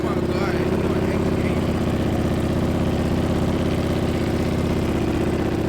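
A motorcycle engine with side-mounted exhaust runs loudly and steadily with a deep, throbbing rumble, close by, with no clear rise in revs.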